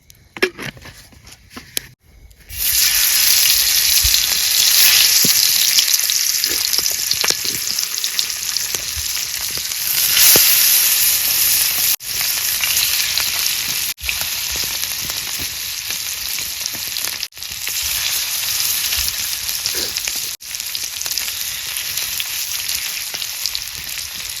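Fish frying in oil over a campsite fire makes a loud, continuous crackling sizzle after a brief quiet start, broken by occasional sharp clicks and stirring scrapes.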